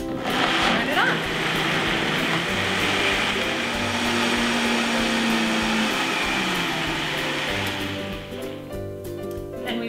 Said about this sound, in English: A high speed blender will work well, but any kind of blender is fine. And turn it on.